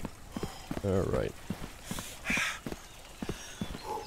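Horse in The Bloodline open-world RPG game, a few rhythmic clip-clop hoof steps and a brief snort or whinny, mixed with someone speaking over it.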